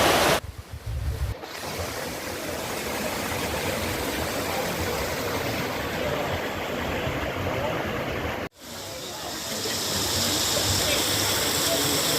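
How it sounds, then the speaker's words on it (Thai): A waterfall flowing through the middle of a cafe in Mae Kampong village, a steady close roar of rushing water that briefly drops out twice, with a voice speaking at the start. "ดูน้ำตกไหลผ่านกลางร้านกันเลยนะฮะ"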